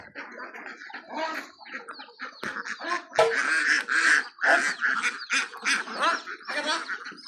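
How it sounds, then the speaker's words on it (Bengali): Ducks quacking over and over, close and fairly loud, their calls overlapping in a busy, continuous chorus. "এই দেখেন হাঁস"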